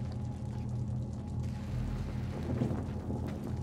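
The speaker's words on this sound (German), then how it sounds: "Überall regnet es rein." Rain leaks into a dilapidated washroom in the video game Little Nightmares, a steady, even hiss of falling water over a low rumble that runs throughout.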